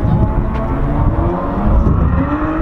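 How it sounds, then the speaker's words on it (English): A Ford GT EcoBoost engine revs hard on a track, a loud, close, rough roar that rises and swells in pitch across a few seconds, with no talking. "See, I told you that EcoBoost, that thing sounds good"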